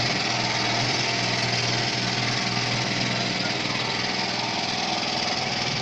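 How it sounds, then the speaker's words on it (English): Petrol generator converted to run on LPG with a conversion kit, running steadily with a loud, constant buzzing engine drone and no pauses. "Okay, let's start this generator."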